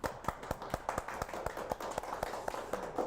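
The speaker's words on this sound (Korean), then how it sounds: "여러분 축하의 박수 한번 보내주시기 바랍니다" A few people in a small room give congratulatory applause for a newly confirmed Democratic Party preliminary candidate, sparse, evenly spaced claps in a quiet, steady rhythm with no voices.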